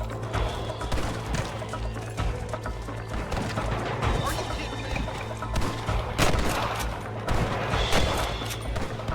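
Gunshots and impacts from the Red Dead Redemption video game ring out in a dense, busy stretch of repeated sharp cracks, with game voices and background noise running throughout.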